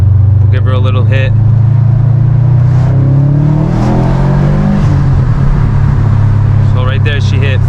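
A Subaru WRX STI with a COBB Stage 1 tune in sport mode accelerates hard, its loud engine rumble rising in pitch over several seconds and then settling, close and dominant, with brief talk at the start and end.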